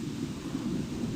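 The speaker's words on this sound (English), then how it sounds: "Today was rainy, thunderstorm." A thunderstorm with rain in The Sims 4 gives a steady low rumble of thunder over a hiss of rainfall, constant and moderately quiet across the short stretch.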